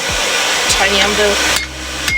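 A hammer strikes metal on a tiny anvil during forging, giving three sharp, close ringing blows spaced across a couple of seconds over a steady background hum.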